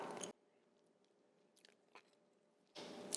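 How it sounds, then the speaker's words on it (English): Homemade chewy, sticky caramel bitten and chewed up close, a faint soft munching with a couple of brief moist clicks between louder bursts of handling noise at the start and end. "I'm going to taste this caramel."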